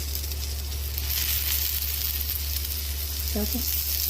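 Besan pola, a gram-flour pancake, fries in oil on a pan with a steady, close crackling sizzle throughout and a brief faint tonal sound near the end.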